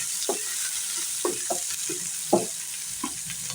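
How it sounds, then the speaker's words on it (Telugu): Chopped onion pieces fry in a hot pan for a mango and lentil curry, a continuous close sizzle broken by several soft scraping knocks as they are stirred back and forth, with no talking. "ఇప్పుడు కట్ చేసి పెట్టుకున్న ఉల్లిపాయ ముక్కలు వేసేస్తున్నాను. చక్కగా వీటిని కూడా అటు ఇటు తిప్పుకుంటూ చక్కగా వేయించేసుకోవాలి."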